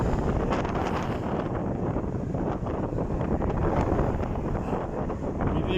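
Strong wind batters the microphone while biking through a snowstorm, a loud continuous roaring rush with no talk.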